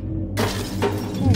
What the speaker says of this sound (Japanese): もう割れた割れた。